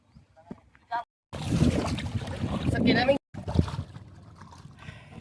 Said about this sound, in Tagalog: Sakay kami sa dako-dako nga ano nga bangka o.